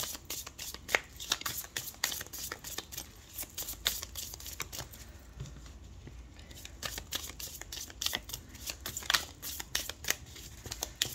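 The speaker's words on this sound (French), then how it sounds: "on va faire un tirage avec l'oracle Spirit de Mariana" Oracle cards being shuffled by hand for a tarot-style reading, a close, quiet stream of rapid papery riffles and flicks that runs almost continuously, with a short pause near the middle.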